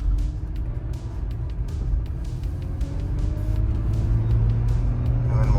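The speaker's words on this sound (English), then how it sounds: "we are going for a quick drive just to make sure there are no bad noises." A 5th-generation Toyota 4Runner with a freshly replaced 8-inch clamshell differential needle bearing drives on a road test, steady engine and road rumble building gradually from inside the cabin.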